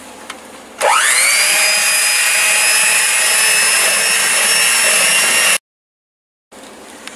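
A stand mixer starts with a whirring spin-up and then runs at a steady high-pitched whine while mixing oatmeal creme pie batter. It stops abruptly, leaving a short silence before quiet room sound returns.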